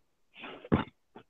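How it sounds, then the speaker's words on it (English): A woman clears her throat in a short, close burst: a rasping hum, a sharper forceful clear, then a small final catch, heard alone without speech. "Trying to like clear my throat."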